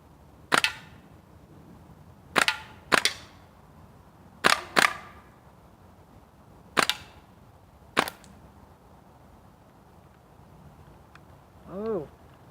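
A G&G M4A1 gas blowback airsoft carbine fires single shots at targets: about seven sharp, loud cracks at irregular intervals over quiet room noise, and a short voiced sound near the end.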